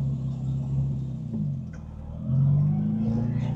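A classic Mini car's engine rumbles steadily from inside the cabin while driving, dipping briefly before rising again as it accelerates, with no talk over it.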